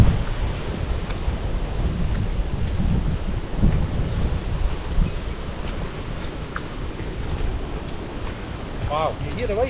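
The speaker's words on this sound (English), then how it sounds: "Wow, you hear the waves, eh?" Big waves break on a rough sea coast in a continuous low wash and rumble, with wind noise over the microphone and a faint chirping sound near the end.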